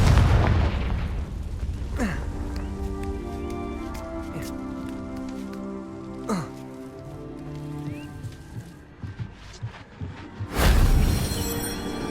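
Confringo fire spell exploding in Hogwarts Legacy, a loud burst at the start followed by crackling debris, scattered pops and ringing magical tones, then a second heavy blast near the end.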